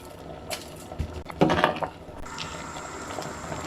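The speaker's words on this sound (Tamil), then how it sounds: "இப்போ நல்லா கொதி வந்துருச்சு" A pot of spinach sambar bubbles and simmers close by, with a few clinks of utensils against the pot and a steady low hiss.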